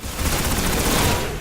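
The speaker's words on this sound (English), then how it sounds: "the poor bastard seems to be using a pulse rifle" Pulse rifle gunfire in Destiny: loud, rapid bursts of shots in a dense fusillade lasting about a second and a half, close and alone.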